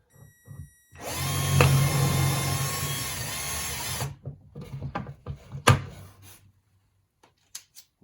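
Power drill driving a screw into a drawer, a loud steady whir of about three seconds, followed by scattered clicks and handling knocks of the workpiece.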